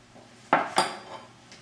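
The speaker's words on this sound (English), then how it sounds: "We're going to slide right underneath those impurities, and we're just going to lift them into our bowl." A skimmer scrapes against a turkey stock pot and taps a bowl while lifting impurities out, two quick close metallic clinks in a quiet kitchen.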